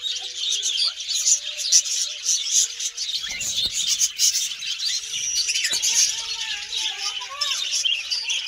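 Budgerigars and cockatiels for sale sit caged nearby, their bright, rapid chirps and chatter forming a busy, continuous twitter with a few longer calls and squeaks, while a person speaks.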